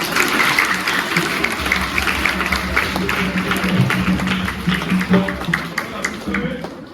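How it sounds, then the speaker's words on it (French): Applause from a congregation in a church during a children's mass, a steady wash of clapping held for several seconds with some voices and low murmur mixed in. "On applaudit encore pour eux."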